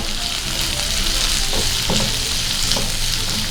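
Chopped onions hit hot oil in a pan already holding cumin and ginger, giving a steady, loud hiss of frying with a few soft stirring scrapes and no voices.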